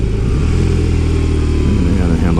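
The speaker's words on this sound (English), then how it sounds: "See, there's the engine brake." BMW R18 Bagger motorcycle engine braking, a loud steady low drone that falls away in pitch as the bike slows, with rough throbbing under heavy wind.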